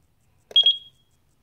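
An alarm control panel on an ESP32 biometric entry system beeps as it arms: a short, close burst of three or four quick, high electronic beeps, then a brief fading tone, with silence before and after.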